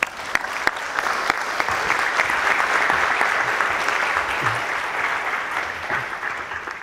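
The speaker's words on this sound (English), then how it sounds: "Please give him a warm round of applause." A lecture audience applauds a speaker onto the stage, a dense, steady roar of many hands clapping that swells and then tapers slightly toward the end, with no talking over it.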